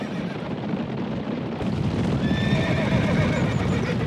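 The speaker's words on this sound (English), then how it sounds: "Even the horses that have shared the land with the lynx for at least half a millennium are undisturbed" Free-roaming horses in the marismas wetlands whinny and neigh loudly over a busy patter of clip-clopping hooves, close and continuous, with a high drawn-out neigh in the second half.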